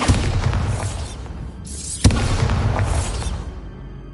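A Bombarda spell explosion in the video game Hogwarts Legacy: a heavy rumbling blast that fades, a short gap, then a sharp bang followed by more dense booming debris noise trailing off.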